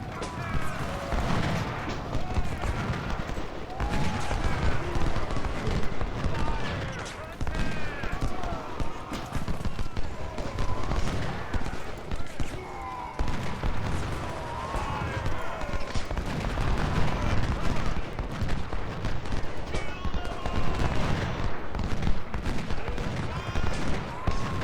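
Rolling musket volleys and scattered gunfire crackle steadily through a Civil War battle in a strategy video game set at First Bull Run, dense and continuous with distant booms mixed in.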